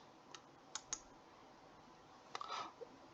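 A computer mouse clicking an attach button: a handful of faint, crisp clicks, a pair early on and a small cluster later, in a quiet room.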